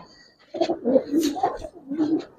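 A Giribaz pigeon coos in a series of soft, throaty calls, four or five low burbling phrases close by, with no talk over them.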